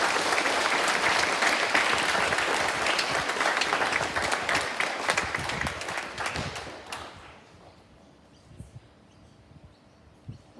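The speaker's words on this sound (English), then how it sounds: "Can we have a round of applause for 5, 6," A school presentation-day audience applauds a stage 3 class, with dense clapping holding steady before tapering off into scattered claps and near quiet.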